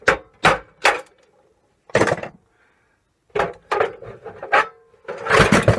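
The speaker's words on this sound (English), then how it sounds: "Take an old chisel and pop the earth rivet off." An old chisel knocks and scrapes at an earth rivet on scrap metal, a series of short, sharp, close impacts and scraping bursts separated by brief pauses.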